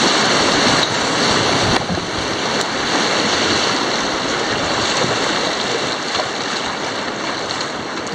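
Rushing river rapids on the Dumoine River at Rapid #24 roar loud and continuous around a canoe, with broad splashing water and wind noise throughout.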